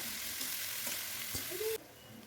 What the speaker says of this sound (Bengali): তো পেঁয়াজটাকে ভালো করে লাল লাল করে ভেজে নেব।